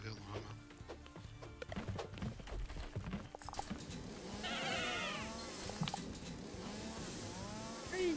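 Sheep bleating in the video game Lumberhill: several wavering bleats overlap near and mid-distance over game music and background noise, with a French-speaking voice talking early on.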